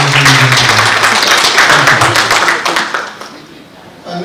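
Applause from an awards ceremony audience: sustained, dense clapping that stays loud and steady, then thins and fades near the end, with faint voices mixed underneath.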